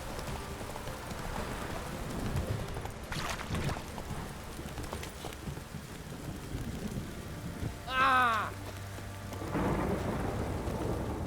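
Heavy rain pours steadily in a downpour in The Witcher 3, a dense hiss with rumbling thunder, brief sharp game effects cutting in partway through.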